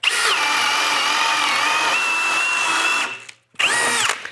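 A power drill whines at high speed for about three seconds as the bit bores in, stops briefly, then spins up again, close and loud.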